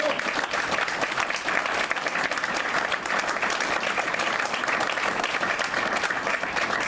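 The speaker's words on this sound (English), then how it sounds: "After we give this guy a big round of applause" Sustained applause for an honoree at a gathering of interscholastic athletic administrators, a dense, even roar of clapping from a large audience lasting several seconds with no break.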